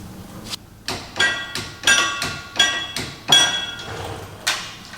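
A torque wrench tightens a titanium primary clutch bolt on a 2024 Polaris 9R 146 snowmobile, with about eight sharp metallic clacks at roughly half-second intervals. Each one rings briefly and is heard up close with no talking.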